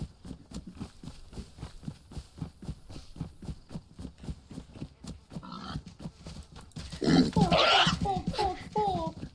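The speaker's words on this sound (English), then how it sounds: "I found another pig." Pig oinking in the survival video game DayZ, a burst of grunts and squeals rising loudly near the end over steady rhythmic footsteps, with people talking throughout.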